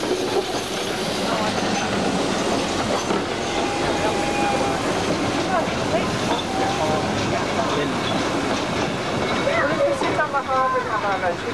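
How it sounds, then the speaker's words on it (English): Ffestiniog Railway train rumbling past on the narrow-gauge line, continuous clatter of wheels with brief metallic squeals, fairly close and steady, while people talk nearby. "look, another train coming"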